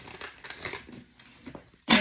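Tarot cards shuffled by hand, close up, with a string of soft papery slides, crinkles and light taps, then a louder burst of card noise at the end, with no talk.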